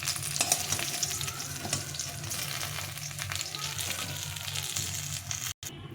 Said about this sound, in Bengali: মাছটা তো ভাজা হয়ে এসছে